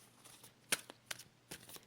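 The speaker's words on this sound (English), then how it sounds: "We're going to pull 2 cards from here. I'm shuffling." Oracle cards are shuffled by hand in a quiet room, giving a few short, soft papery riffs and flicks spaced irregularly, close but faint.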